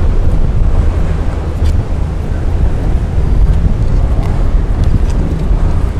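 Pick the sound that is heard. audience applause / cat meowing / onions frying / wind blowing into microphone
wind blowing into microphone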